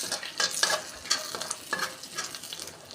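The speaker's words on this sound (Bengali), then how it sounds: "নাড়াচাড়া করছি তো" Egg and fish roe mixture cooked in a pan and stirred repeatedly, rhythmic scraping strokes over a light ongoing sizzle, close and clear.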